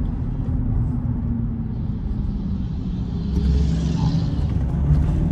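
A Nissan Frontier pickup climbs a mountain road in the Serra Gaúcha in third gear, its engine a steady low rumble under constant load heard from inside the cab.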